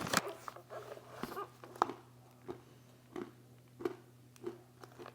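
Crunchy roasted mixed nuts (almonds, cashews, hazelnuts, pistachios) being chewed close up, a series of sharp crunches spaced about every half second over a low steady hum.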